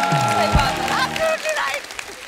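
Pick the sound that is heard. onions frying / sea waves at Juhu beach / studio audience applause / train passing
studio audience applause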